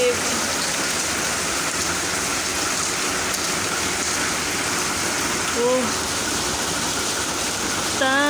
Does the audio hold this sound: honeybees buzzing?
no